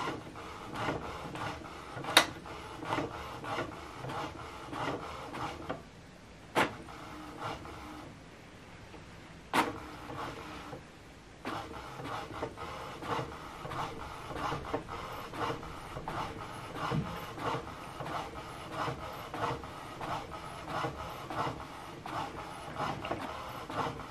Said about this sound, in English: sending page 1-to-1 to the printer